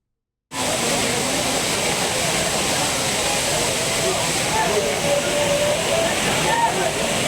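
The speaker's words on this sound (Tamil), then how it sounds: "அருவிகளில் தண்ணீர் ஆர்ப்பரித்து கொட்டுறதுனால குற்றால சீசன் களை கட்டியிருக்கு" Water roaring down the Courtallam waterfalls in a dense, steady rushing wash that starts abruptly and holds loud and unbroken, with a faint voice under the roar.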